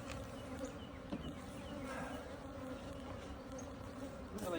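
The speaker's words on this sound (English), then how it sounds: "this hive settles down." Honeybees hum in a dense, steady drone around an agitated hive, many insects buzzing close by without a break.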